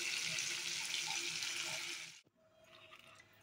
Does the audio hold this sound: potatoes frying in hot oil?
yes